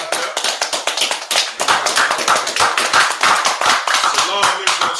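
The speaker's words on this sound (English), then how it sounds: "All right, let's clap it up." An audience claps loudly and close by, with sharp individual hand claps in an uneven, lively rhythm that stays dense throughout.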